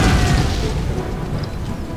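Grenades explode during an Empire: Total War 1v1 battle, a steady low rumbling boom that rolls on without a break and without voices.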